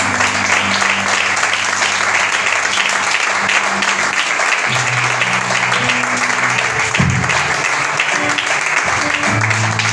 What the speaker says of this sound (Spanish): Dale fuerte las palmas a Dios si tú lo crees